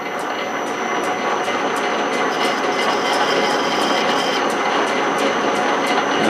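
Gears on a South Bend 13-inch lathe run steadily while threading, a loud, close, continuous mechanical whir with a regular ticking from the gear train.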